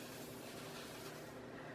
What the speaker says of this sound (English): you can spray them with a little bit of water if you desire, and then just spray that open